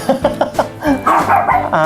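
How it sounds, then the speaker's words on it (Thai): A dog barking close by indoors, a quick run of sharp barks followed by a longer, whining, yelping stretch, loud and with no talk over it. "ทนฟังเสียงหมากันไปด้วยนะครับ"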